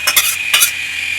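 Shrimp in a pan are stirred with a utensil for a quick moment, giving a few close scraping, clinking strokes over a soft steady sizzle, with no voices.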